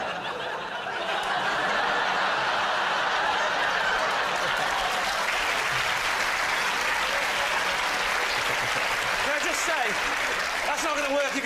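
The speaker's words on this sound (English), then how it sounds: "That's not going to work if you clap." A studio audience at a British comedy panel show breaks into sustained applause mixed with scattered laughter and chuckles, a full, steady wash of clapping that holds loud for over ten seconds.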